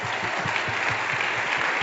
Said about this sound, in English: So we just want to give them a big round of applause,